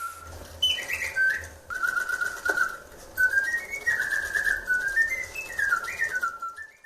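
Clear, melodic whistling mimics birdsong, with warbling trills and sliding notes repeating in phrases over a faint background hum.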